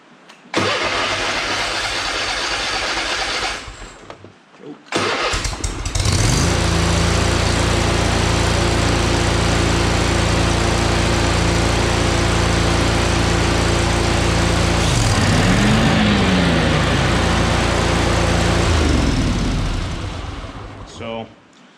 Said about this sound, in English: The mower will start.